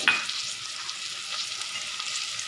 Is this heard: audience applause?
no